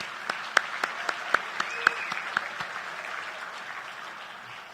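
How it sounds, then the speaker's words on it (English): Banquet guests at a 16-inch softball Hall of Fame dinner break into applause: a crowd's clapping with several loud, distinct claps early on, then a smoother wash that gradually fades out. "everyone in this room should thank the entire Hall of Fame board right now with a nice big round of applause"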